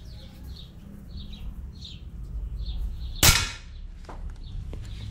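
A 4.5 mm calibre PCP air rifle fires one sharp, loud shot, followed by a couple of faint clicks, outdoors with birds chirping steadily in the background.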